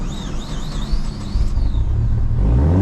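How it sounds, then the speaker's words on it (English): A car engine cranks and catches with the gas pedal pressed and throttle held open, rising into a loud close rumbling rev that builds toward the end. "we can press down the gas pedal, open up the throttle so that more air can enter and we can get this baby started"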